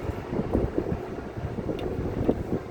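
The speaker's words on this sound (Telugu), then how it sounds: "అంత విపరీతంగా ఉంది గాలి అయితే" Strong summer wind buffets the microphone with low rumbling gusts and a rushing roar, steady and loud without any talking.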